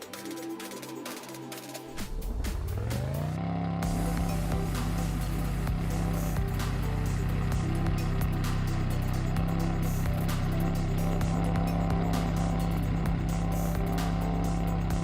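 A loud car engine in a racing video game settles into a steady, droning roar after a brief quieter start, holding a constant deep hum for the rest of the stretch with no talk.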